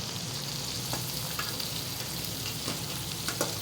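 Boiled chicken tipped into a hot frying pan, giving a steady close sizzle and crackle of frying with light stirring scrapes, no voices.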